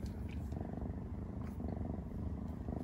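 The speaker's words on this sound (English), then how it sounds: "Oh, she's purring." A cat purrs steadily up close, a soft continuous rumbling rhythm with no other sounds over it.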